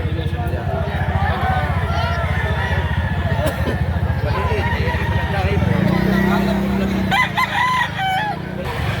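A three-year-old rooster at a poultry sale near SM Lipa, Batangas, crows loudly and close over busy market noise, while people talk nearby.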